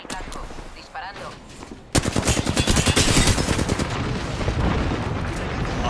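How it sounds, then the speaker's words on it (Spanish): A video game artillery strike breaks in abruptly after quieter background sound: a dense, loud barrage of rapid blasts and gunfire-like bursts that continues without letup, slowly easing slightly. "Artillería sobre el blanco."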